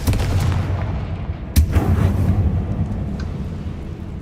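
A Confringo fire spell goes off in Hogwarts Legacy with a sharp, booming blast over a steady low background rumble, its sound trailing off over the following seconds.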